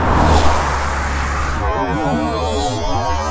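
A loud rush of a car passing about 30 centimetres from a road cyclist, its roar swelling and then fading into wind and road noise.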